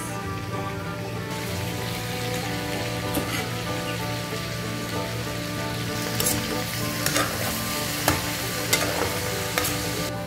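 Chicken sizzles steadily in a pan of tomatoes for a Filipino kinamatisang manok dish, a dense continuous frying hiss with occasional stirring clatter and pops, close and without talk.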